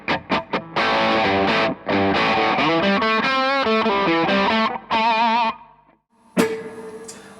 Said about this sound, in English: And then we'll go to the bridge humbucker.